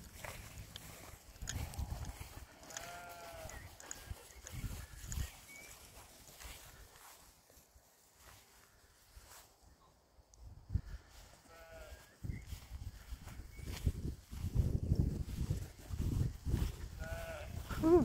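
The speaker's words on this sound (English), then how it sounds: "Oh, sheep." Sheep bleating on a walk with dogs, several wavering calls that come in separate bursts, some near and some farther off, between footsteps and rustling.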